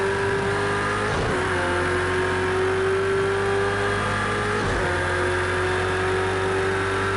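A racing car engine in a video game revs hard and steady, with two quick gear-shift dips as the pitch falls and climbs again, loud and continuous with no talk over it.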